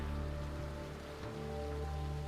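Steady rain in the video game Resident Evil 2 Remake, a constant dense patter under a low droning hum, even and unbroken throughout.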